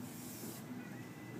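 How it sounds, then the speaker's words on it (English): Spray adhesive hisses from an aerosol can while preparing kinesiology tape, a short, quiet, steady spray. "I'm going to spray a little adhesive"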